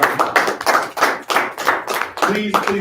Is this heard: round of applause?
yes